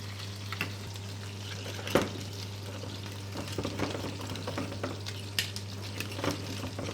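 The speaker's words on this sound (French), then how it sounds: "On émulsionne bien le beurre pour que ça fasse un côté un peu crémeux." Butter is stirred and emulsified in a pan for risotto, giving a soft, continuous sizzle with scattered clicks and scrapes of the spoon against the pan, quiet and close.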